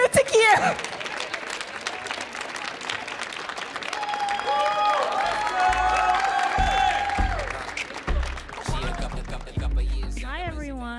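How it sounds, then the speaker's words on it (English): An audience at a poetry reading on the Millennium Stage breaks into loud, sustained applause with some cheering for a performer. The clapping swells quickly and stays dense throughout, with music-like tones rising over it midway. "Everyone give a round of applause to Takier."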